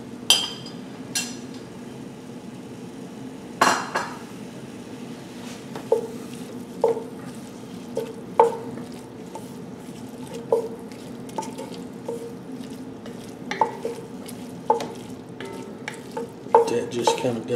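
Sausage and okra fry in a gumbo pot for swamp rabbit gumbo, a steady close sizzle broken by sharp, regular spoon clinks and scrapes against the pot as it is stirred.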